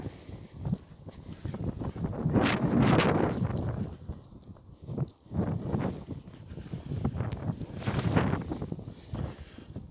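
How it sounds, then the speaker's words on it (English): Gusty wind blowing across a microphone outdoors on a walking trail, rising in broad rumbling surges around the middle and again near the end, with no talk over it. "Wind's getting up a bit."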